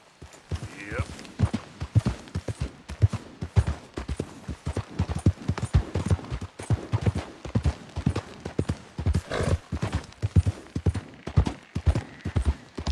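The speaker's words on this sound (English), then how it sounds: "Olha o cavalo." Horse hooves clip-clop steadily in a Wild West video game, a brisk rhythmic trot of sharp repeated hoofbeats throughout, with people talking over it.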